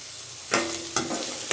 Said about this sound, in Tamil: வெங்காயம், இஞ்சி பூண்டு பேஸ்ட் எல்லாம் நல்லா வதங்கணும்.